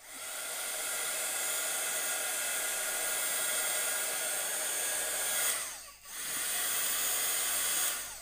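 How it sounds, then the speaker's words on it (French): A heat gun blows over alcohol ink, a close, steady hissing roar that cuts out briefly and then starts again. "Je vais juste remettre un petit coup de heat gun où je viens de remettre de l'alcool"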